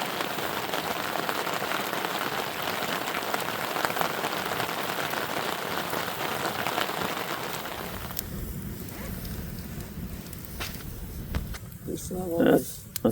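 Rain falling at a backcountry campsite in Yosemite National Park, a dense steady patter of drops on surfaces for most of the stretch, thinning toward the end where a few scattered sounds and brief noises appear.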